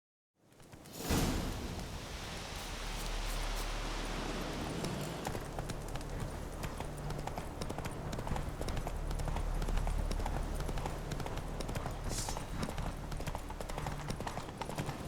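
Geralt's horse Roach trots in The Witcher 3 game, steady clip-clop hoofbeats under a rushing wind-like ambience, moderately loud and continuous after a quick fade-in.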